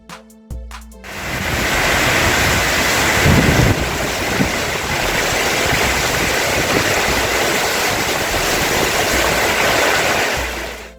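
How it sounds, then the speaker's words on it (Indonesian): A tornado roars over a market area in Jetis, Mojokerto, East Java, with heavy rain. A loud, continuous rush of wind and rain runs nearly the whole time after a brief start. "Puting beliung ini datang disertai hujan deras di kawasan tersebut"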